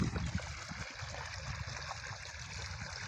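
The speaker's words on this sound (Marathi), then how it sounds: "हे पण आता चाललं पाणी आपलं" Irrigation water from a motor pump flows steadily into a wheat field, a continuous close trickling and gurgling stream with no talk.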